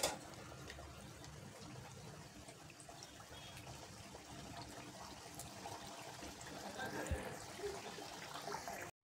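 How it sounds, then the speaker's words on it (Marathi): Wheat-flour and jaggery kapnya deep-frying in oil, a steady dense bubbling sizzle that stays even throughout, with a faint voice speaking softly underneath. "असेच दुसरी बॅच पण तळून घ्यायची आपल्याला."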